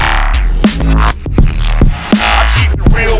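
Bass stem played back in Ableton through Serum FX with a reverse wet effect, giving loud, throbbing low bass notes with swelling reversed tails in a repeating groove, no talking.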